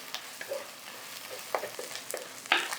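Soft frying sizzle of ginger garlic paste sautéing in a pan with scattered clinks and scrapes of stirring, close and fairly quiet, no talking.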